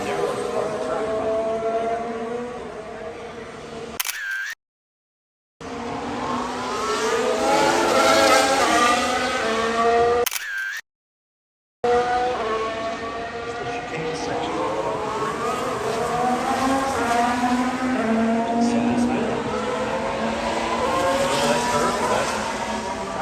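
Formula 1 race cars at the Miami Grand Prix scream past one after another, loud high-pitched engines rising and falling with Doppler sweeps, nearly continuous over crowd noise, with two brief dropouts of silence.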